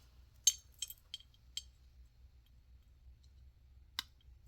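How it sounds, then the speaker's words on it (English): Small crystal beads being cut off a necklace chain give a few faint, sharp clicks and clinks, a quick cluster early on and one more a few seconds later, against near silence. "These little crystals right here. I'm just going to cut them."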